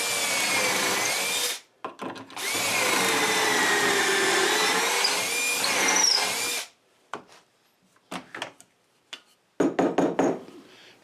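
Power drill boring pocket holes through a 2x4 with a pocket-hole jig, two long sustained whirring runs under load, then a few short bursts and rattling clicks, close and loud with no talking.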